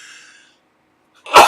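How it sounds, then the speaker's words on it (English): A single loud, abrupt sneeze bursts out near the end after a faint breathy intake and a stretch of near silence, close to the microphone. "if I can just avoid a sneezing fit"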